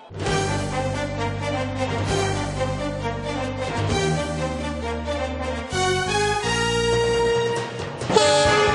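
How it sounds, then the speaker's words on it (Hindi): Loud, sustained tonal horn-like blaring from trains at New Delhi railway station, with layered pitches and busy station rumble shifting over several seconds, with no speech. "इस वक्त मैं खड़ी हूँ नई दिल्ली रेलवे स्टेशन।"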